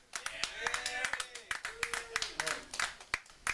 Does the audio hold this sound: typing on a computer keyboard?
no